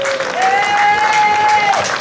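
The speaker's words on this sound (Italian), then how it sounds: "Un applauso è gradito, grazie mille." A crowd applauds steadily as members of a list are introduced one by one at an evening gathering. The clapping is sustained and fairly loud, with a steady tone running over it.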